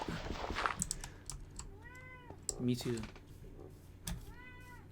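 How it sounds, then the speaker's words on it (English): A cat meows a couple of times, drawn-out and rising, amid keyboard clicking and brief talking nearby. "Meow louder so they can hear you."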